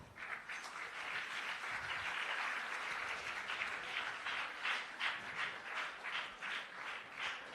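An audience at a book launch event applauds schoolchildren and their principal, a sustained, fairly distant round of clapping that swells slightly toward the end.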